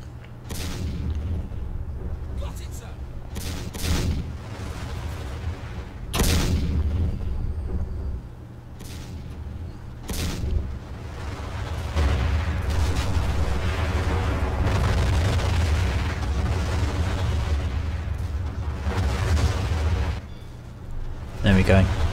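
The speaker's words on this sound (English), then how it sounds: "So they're just going to start bombarding the whole area." Artillery shells bombarding ground at the Somme in a video game, a continuous rumble of distant and nearer booms with sharper blasts scattered throughout, while someone talks over it.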